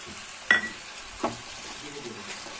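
Tomato paste tipped into a pan of cooked red potatoes for a Navratri fasting dish, a sharp splash and sizzle at first, then a second stir and soft frying hiss, close and moderately loud, with no talk.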